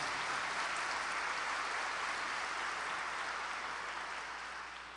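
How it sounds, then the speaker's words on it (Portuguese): A church congregation applauds during a sermon, a steady, even wash of many hands clapping that sounds soft and distant and tapers slightly at the end. "Dê uma salva de palmas para Jesus,"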